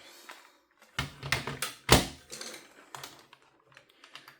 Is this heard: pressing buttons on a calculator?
yes